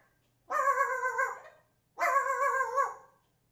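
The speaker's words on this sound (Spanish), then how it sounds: "Uy, el perro." Two drawn-out, harmonic, dog-like barks come from close by, each lasting about a second and separated by a short pause, with no talking over them.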